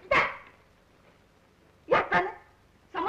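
A dog in a 1935 Japanese period film barks sharply once, then twice in quick succession after a pause, and starts a fourth bark at the end. The barks sound fairly close, with no speech between them.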